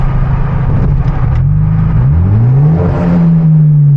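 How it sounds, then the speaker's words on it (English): Manual Hyundai Genesis Coupe revving on an empty downtown street at night, a loud, close engine drone rising and falling in pitch with throttle, deep exhaust tone throughout; individual pops are not clearly distinct. "Those pops are definitely deep."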